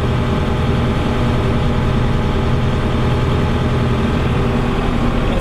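A steady, low engine drone from a Lovol M1104 tractor idles evenly throughout, heard from inside its enclosed cab at about 60–61 dB, with no voices.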